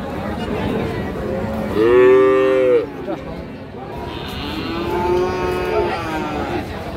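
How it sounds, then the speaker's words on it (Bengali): A crossbred heifer calf at a cattle market gives two drawn-out moos, the first loud and close, the second longer and softer, over a steady murmur of people talking. "এইটা কিন্তু ক্রস জাতের দর্শক, বকনা বাছুর।"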